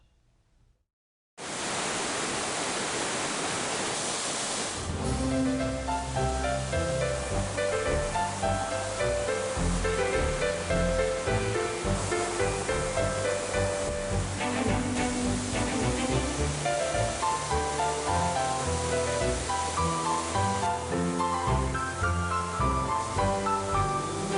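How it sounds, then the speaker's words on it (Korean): Hwanggae Waterfall in Hapcheon pours with a steady, full roar of rushing water that starts abruptly and carries on unbroken, with instrumental music layered over it. "합천의 황개폭포 영상을 준비했습니다"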